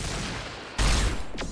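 Rimworld colonists fire at zombies, a burst of gunfire breaking out abruptly midway and continuing as a loud rattling volley over a rumbling backdrop.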